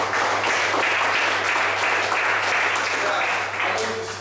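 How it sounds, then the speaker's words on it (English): Loud sustained clapping from a professional development workshop audience applauding themselves, dense and even from start to finish, fading slightly at the end. "Clap it up for yourself."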